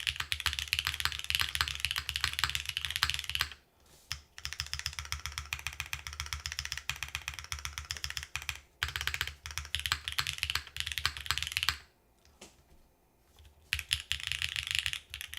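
Rapid, continuous typing on a mechanical keyboard with an aluminum case, crisp clacky keystrokes in steady bursts with a few brief pauses, close and fairly loud, no voices.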